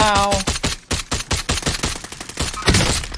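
A DMR-14 rifle fires in Call of Duty Warzone as a fast run of loud, close, sharp shots, about a dozen in quick succession with short pauses between bursts.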